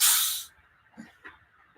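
A SodaStream machine carbonating a drink gives a loud, sharp hiss of gas for about half a second, followed by a couple of faint soft knocks in a quiet room.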